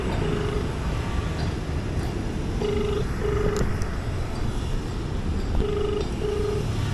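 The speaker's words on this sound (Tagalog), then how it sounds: "nakailang dial na ako nagre-ring lang" Unanswered phone call ringing in a car in Makati, with short repeated ringback tones in pairs over steady road and engine rumble.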